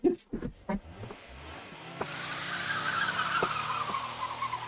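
Cars race and skid in a video game, with a sustained tire squeal and engine roar building over several seconds after a brief opening of voices and clicks.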